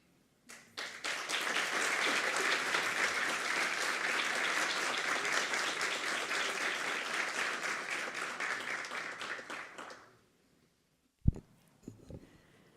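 Sustained applause fills a hall honoring a councillor at a São Paulo audit court session, dense steady clapping for about ten seconds before fading out, then a few scattered knocks.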